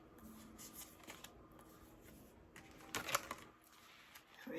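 A deck of cards is shuffled quietly and close by, a soft continuous papery riffle with a sharper burst of flicking near the middle, low in level with no voices.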